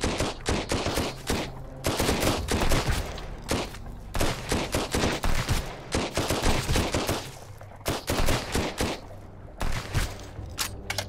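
Sustained automatic gunfire in the survival game Sunkenland, with dense rapid bursts of shots repeating over several seconds, loud and close, broken by a few brief pauses.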